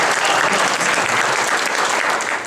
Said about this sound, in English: one more round of applause for these lovely performers who performed for you today.